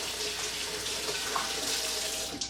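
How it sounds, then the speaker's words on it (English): Steady hiss of a kitchen tap running into a sink while hands are washed, a continuous broadband wash with small splashy shifts, fairly close and alone with no talk. "I'm going to wash my hands."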